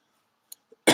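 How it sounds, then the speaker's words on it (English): One person coughs, a couple of faint throat noises leading into a single loud, harsh cough at the end. "Forgive my coughing."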